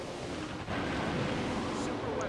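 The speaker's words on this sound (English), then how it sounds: "Fire the missile." Missile launch and blast in the naval combat game Warship Gunner 2: a dense, roaring wash of rumbling explosion noise that fills the whole stretch, loud and sustained, with a brief dip before it swells again.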